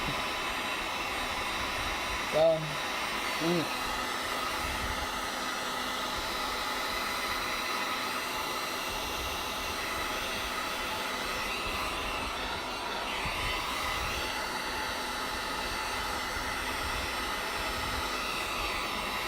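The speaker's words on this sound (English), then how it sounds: "let's come back there with the heat gun. Hit it again real quick." A heat gun blows hot air over a custom Yeezy 350 Boost sole with a steady, airy whoosh that runs evenly throughout, and two brief higher tones sound near the start.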